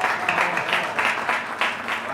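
A small group at a celebration applauds in a brief, steady run of rhythmic claps close by, with a voice speaking faintly underneath.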